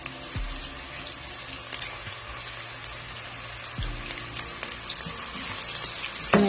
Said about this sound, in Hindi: जैसे ऑयल गर्म हुआ मैंने इसमें एक अदद अनियन, मैंने स्लाइस में कटी हुई एक अदद मैं अनियन डाल रही हूँ।